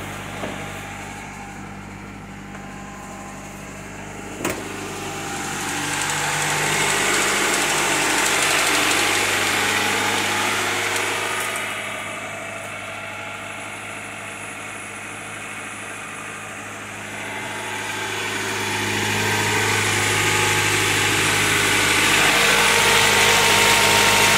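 An old engine runs steadily for the whole stretch, a rough mid-pitched idle with a faint knock and a little exhaust smoke, its drone swelling louder twice.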